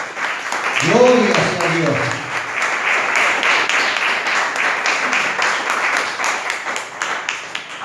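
A church congregation applauds steadily through a Christian ministry service, a continuous wash of dense clapping with a voice speaking over the opening seconds.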